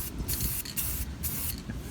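Krylon spray paint can hissing onto the undercarriage chassis of a 1974 Chevrolet C10 truck, with several short close bursts in quick succession separated by brief pauses.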